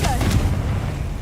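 A Confringo spell blast in Hogwarts Legacy lands as a short, heavy boom with a low rumble that lingers and fades quickly, loud and close.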